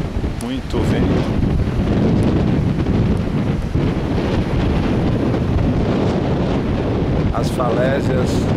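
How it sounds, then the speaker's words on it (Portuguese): Strong wind buffets the microphone steadily on the seaside cliffs near Pipa beach in Rio Grande do Norte, Brazil, a loud continuous roar with surf beneath and brief voices. "muito vento."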